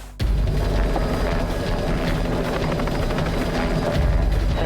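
A bush helicopter in Alaska hovers with a sling load hanging beneath it, its rotor producing a loud, steady, close thumping roar that holds through the clip after an abrupt start.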